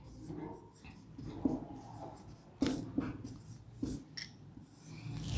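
Chalk or marker writing on a board during a Sanskrit grammar lesson, with scratchy strokes in short bursts and a few sharper taps, heard close and alone with no talk over it.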